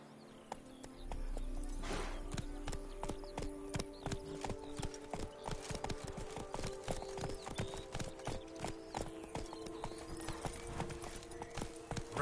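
Roach the horse gallops in The Witcher 3, its hooves clip-clopping in a fast, steady rhythm that continues throughout, close and moderately loud with a faint background hum.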